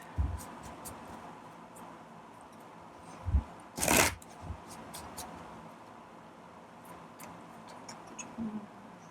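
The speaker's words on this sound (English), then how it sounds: "I'm actually going to shuffle these real quick." Tarot cards being shuffled by hand: soft, quiet riffling and ticking taps scattered across the span, with one brief louder burst of card noise in the middle, close and intimate in a quiet room.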